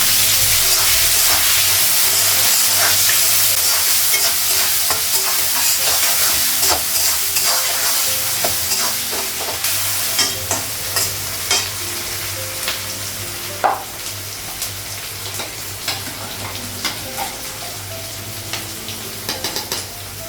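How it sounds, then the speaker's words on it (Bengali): Onions frying in a pan in a home kitchen, a loud, dense sizzle with repeated scraping and stirring clatter that thins out toward the end, close by and with no voices. "পেঁয়াজটা লাগাবো, ভেজে নিয়ে তারপর সজনাটা লাগাবো"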